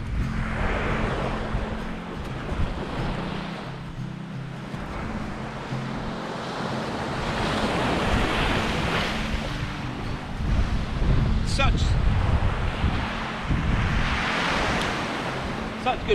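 Sea waves on the Holderness coast of Yorkshire roll in and break repeatedly in long surging washes, loud and close, mixed with gusty wind noise on the microphone throughout.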